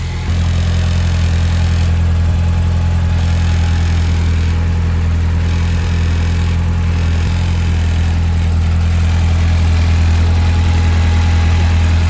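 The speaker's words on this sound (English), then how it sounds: "So the engine is shuddering" A Nissan 1400 engine idles with a low, steady rumble and a slightly uneven shudder running continuously throughout, fairly close and loud.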